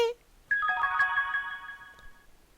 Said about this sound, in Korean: 어, 전화 왔어 받아줄게.